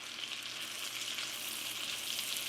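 Cabbage frying in a pan with bacon, a continuous close hiss and crackle of sizzling fat, steady and even with no talking.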